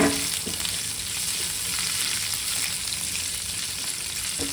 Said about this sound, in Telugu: ఇలా కొద్దిగా అల్లం ముక్కలు వేసిన తర్వాత కొద్దిగా వేపుకోవాలండి